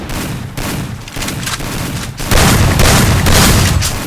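Loud, close video game gunfire, rapid shots and booming impacts that swell into a heavier, denser burst in the second half.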